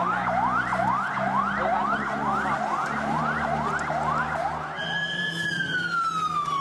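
An ambulance siren wails in a steady, repeating rising sweep at a street protest in Bangkok, fairly distant and continuous, then shifts to a single long tone near the end.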